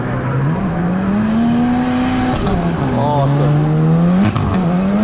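A turbocharged four-cylinder drift car revs hard on a race track, its engine note rising and falling steadily over five seconds, loud and close, with a voice briefly speaking over it.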